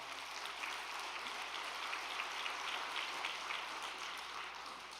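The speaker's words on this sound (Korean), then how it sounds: "감사의 박수를 부탁드리겠습니다" An audience claps in thanks at a Korean prayer gathering, a soft, even patter of many hands that holds steady for several seconds and sounds somewhat distant.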